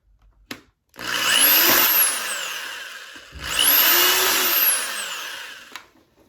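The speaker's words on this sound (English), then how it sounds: "what I'm doing is just drilling a bunch of holes just around the perimeter of that crank knob" Drill boring a ring of holes through the masked-off plastic crank knob on a Spirit proton pack: two long, loud whining bursts with the motor pitch rising and falling, separated by a brief pause.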